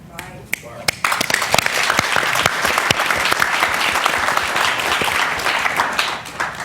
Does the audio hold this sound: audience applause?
yes